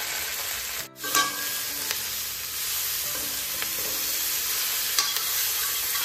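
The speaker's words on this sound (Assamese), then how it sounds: "মাংসখিনি মই ভাজি আছোঁ 15 মিনিটমান হ'ল" Pork with spices such as coriander and cumin powder fries in a pan with very little oil, making a steady close sizzle. A brief dip and a clatter come early, followed by light scraping stirs.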